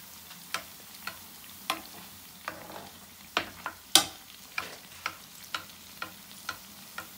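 Pain de mie dough frying in hot oil, a steady low sizzle broken by sharp regular clicks and taps from a utensil roughly every half second, close and moderately loud with no voices.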